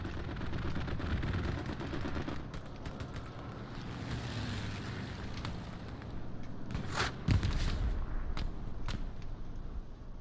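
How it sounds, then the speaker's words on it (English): Gunfire in a video game battle with an enemy tank firing, heard as continuous rattling shots and a few louder sharp cracks over a rushing, wind-like background, with no talking. "Is that an enemy tank shooting us?"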